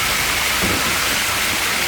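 Waterfall heard as a steady broadband rushing roar, loud and unbroken, with no voices over it.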